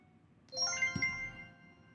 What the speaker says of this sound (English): We're looking for a chime.